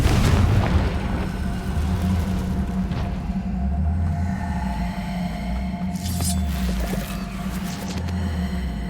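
A Confringo fire spell in the Hogwarts Legacy video game detonates with a heavy, close boom at the start, then a deep rolling rumble continues beneath further game effects.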